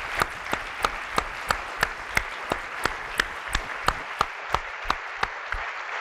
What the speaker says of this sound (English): Please help give a warm round of applause for Jim.